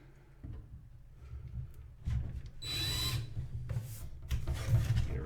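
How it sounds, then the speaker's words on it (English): Power drill boring a hole for a clear throttle tube on a Valiant model build, several short bursts of whine with pauses between, close and fairly loud, no talk. "we're going to drill a hole there, and that's for our throttle tube"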